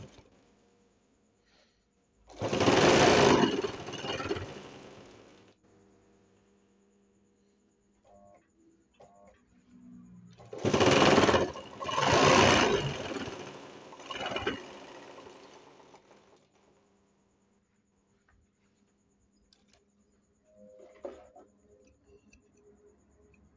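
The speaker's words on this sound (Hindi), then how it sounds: "अब इसके ऊपर से सिलाई मारेंगे।" A domestic sewing machine runs stitching over a thick, folded cloth seam in two loud bursts, one about three seconds and a longer one later, with a few light clicks and a brief whir between and near the end.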